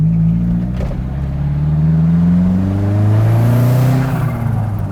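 A slammed Alfa Romeo Spider engine revs while driving, a loud close drone rising and falling through the gears over steady road noise, with no talk.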